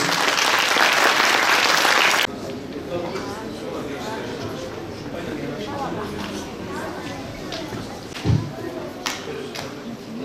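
An audience at a ceremony for Quran course students gives a loud burst of applause for about two seconds, which then cuts off abruptly into someone talking over a low murmur of the crowd.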